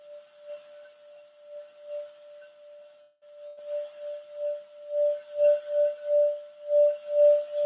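A Tibetan singing bowl gives a steady ringing metallic tone that hums continuously, swelling into rhythmic pulses as the rim is scraped round and round, growing louder toward the end.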